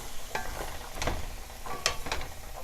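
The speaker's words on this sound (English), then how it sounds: "we're going to add our carrot and zucchini and stir that all up" Leeks, carrot and zucchini sauté in a pan, making a soft, low sizzle broken by a few brief stirring clicks and scrapes, with no talking.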